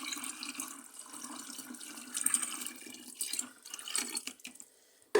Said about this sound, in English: it's time for me to now add my caustic soda solution inside